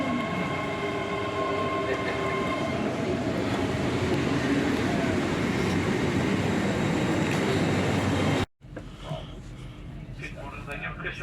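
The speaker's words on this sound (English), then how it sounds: "On board Great Western Railway, Hitachi 8300, IET Class 800 or 802." Onboard a Great Western Railway Hitachi IET Class 800 train on a rainy day, a steady loud rumble and hum fill the carriage before a sudden cut to a quieter, rattling stretch of running.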